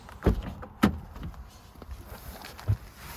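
Someone climbs into the front of a 2021 BMW M440i Gran Coupe, with a few soft thumps and rustles, a door closing and seat shifting, close and fairly quiet over a brief span.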